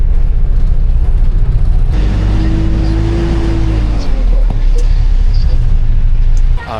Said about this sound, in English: This guy is driving a manual bus off a mountain filled with people.